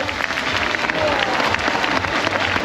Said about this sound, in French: je pense qu'on peut applaudir bien fort Vénus et Paco